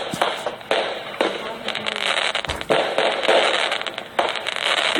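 Fireworks crack and pop in a rapid irregular series of sharp bursts, some loud and close, over a steady crackling background, with a voice talking over them.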